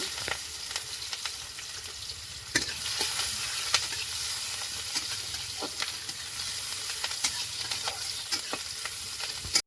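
Nigella seeds, green chilies and raw onion sizzle steadily in hot oil in a kadai, a dense continuous crackle with occasional sharper pops and stirring scrapes, close and alone.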